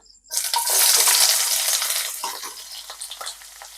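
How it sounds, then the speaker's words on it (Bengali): Onions dropped into hot oil for tempering in a pan for aloo begun sabji, bursting into a loud hiss of frying that stays steady for a couple of seconds, then eases into softer crackling with a few scattered pops. "এর মধ্যে দিয়ে দেবো পেঁয়াজগুলো"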